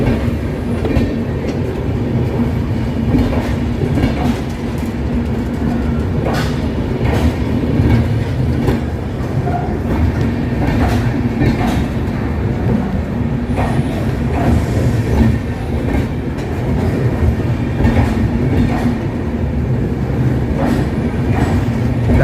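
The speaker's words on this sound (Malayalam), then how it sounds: "ആദ്യമായിട്ടാണ് ഒരു ഡബിൾ ഡക്കർ ട്രെയിൻ നേരിട്ട് കാണുന്നത്." The Uday Express, a double-decker air-conditioned Utkrisht train, rolls past close by, with a loud, sustained rumble, rhythmic clickety-clack of wheels over rail joints and occasional wheel squeal, and no voices.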